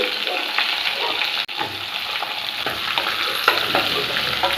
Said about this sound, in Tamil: ரெண்டு மீடியம் சைஸ் வெங்காயத்தை இந்த மாதிரி ரஃபாக கட் பண்ணி சேர்த்துக்கிறேன்